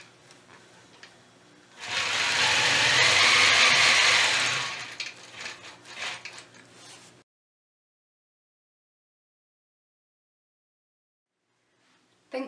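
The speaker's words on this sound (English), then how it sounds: "Now stitch back to the corner." A sewing machine stitches a quilted square block, running in a steady, close mechanical whir for a few seconds before tapering into lighter stitching and stopping, then silence.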